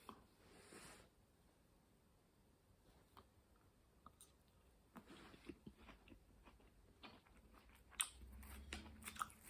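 Someone bites and chews an unripe Mammoth pineapple guava fruit, soft wet crunches and squishy chewing noises, close but faint, with no talking.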